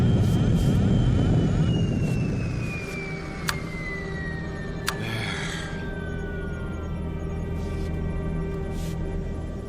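In an old-time radio drama, spaceship engines roar as the craft comes down in a crash landing. A loud rumbling drone with a slowly falling whine begins the scene, then fades to a steady hum broken by a few sharp clanks.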